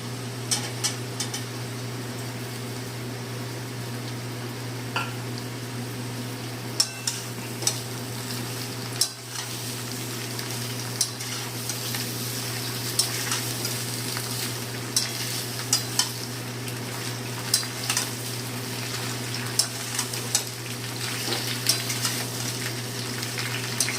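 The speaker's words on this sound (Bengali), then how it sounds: "আলুর সঙ্গে ঝিঙেটা আমি আরও 5 মিনিট ভেজে নেব।" Ridge gourd and potatoes frying together in a pan, with a steady low sizzle throughout and occasional light stirring clicks, no voices.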